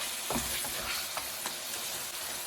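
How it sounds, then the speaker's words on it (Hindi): Minced keema with added bell pepper (shimla mirch) frying in a pan, a steady close sizzle broken by scraping stirs of a spoon through the mixture. "इसमें ये शिमला मिर्च ऐड कर देंगे और इसको मिक्स कर देंगे"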